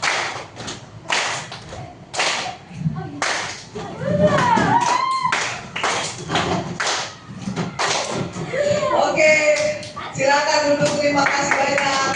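A class performs the tepuk rahasia clapping routine, sharp unison claps landing in short rhythmic groups, separated by a teacher talking and children's voices.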